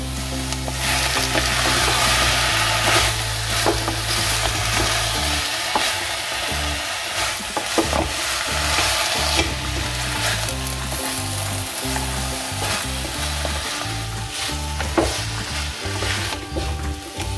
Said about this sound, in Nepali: सिप्लिगानमा नि मजाले भुट्नुपर्छ